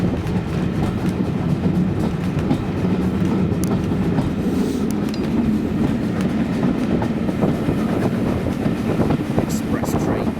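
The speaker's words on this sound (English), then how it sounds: "Fast chuffing! Exactly what I like to hear." Fast steam locomotive chuffing on the Bluebell Railway express, a dense continuous rhythmic beat with rail clatter, steady and loud throughout.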